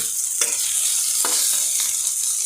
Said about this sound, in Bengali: মাছ ভেজে খাওয়াইতেছি